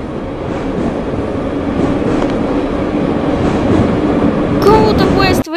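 Subway train in the game Subway Simulator 3D pulling away, a steady loud rolling rumble building slightly, with a brief high squeal near the end before the sound cuts off.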